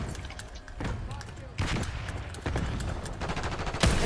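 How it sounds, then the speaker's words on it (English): Gunfire from an enemy marksman rifle in a squad-based shooter game, several sharp shots spread across a few seconds amid busy game noise, with a voice talking over it. "Enemy marksman shooting"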